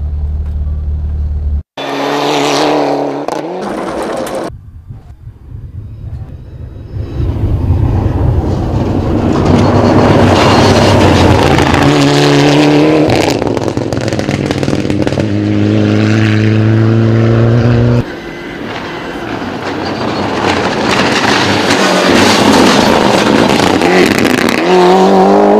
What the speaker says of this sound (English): Look at your rally car, what is a rally car?